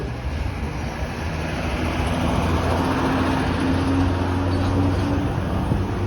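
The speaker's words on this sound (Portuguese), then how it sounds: "Vou deixar o caminhão passar para vocês escutarem isso." A truck rolls past on a road in Anápolis, a broad rumbling roar that builds and holds steadily, loud and close, with no voices over it.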